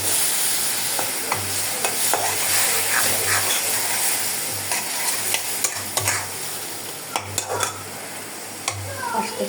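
Garlic paste fries in oil for a fish curry, a steady hissing sizzle with repeated spatula scrapes and light clinks against the pot.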